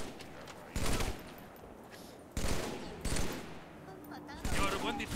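Bursts of gunfire in the video game Halo 3, several loud volleys separated by short pauses, with a voice speaking between them.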